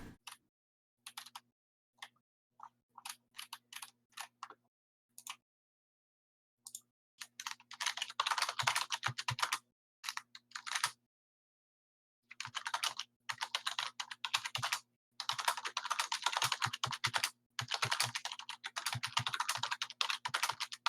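Close, loud clicking of a computer keyboard, starting with scattered single keystrokes and building into long dense bursts of fast typing broken by brief silences, over a low steady hum.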